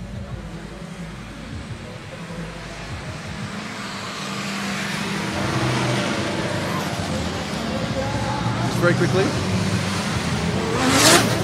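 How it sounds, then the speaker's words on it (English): Drift cars at an FIA Intercontinental Drifting Cup qualifying session head back onto the track, a steady roadway rumble building toward a loud engine surge at the end, with commentators talking over it throughout. "The cars are going back out on the track now"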